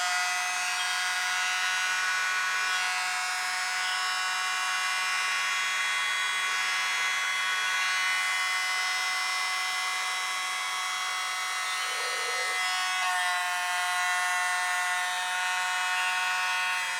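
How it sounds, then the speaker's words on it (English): A plugged-in electric blower drying fluid acrylic paint whirs in a continuous, even, high-pitched hum at moderate volume, holding steady throughout with a slight tonal shift near the end. "Let's see if I have a plugged-in blower handy."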